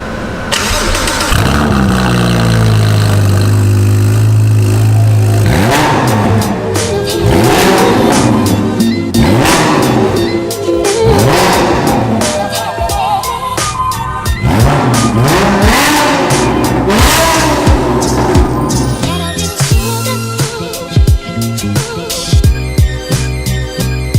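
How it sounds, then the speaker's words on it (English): A car engine revs hard through a straight-through Novitec exhaust, loud and close, with repeated rising and falling revs and crackling pops over about twenty seconds. "straight through Novitec exhaust as well. It sounds absolutely phenomenal"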